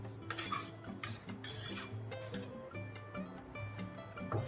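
A spoon stirs a sweet sukhadi mixture with sugar in a metal pot, giving a close, steady series of scraping clinks and taps in an uneven rhythm, with no talking.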